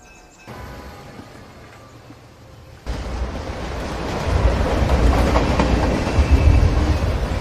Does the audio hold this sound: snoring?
no